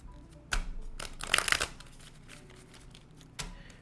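A deck of Kipper fortune-telling cards being shuffled up close. Three crisp, papery riffling bursts come through a quiet room: one brief, one longer and fuller, and a final short one.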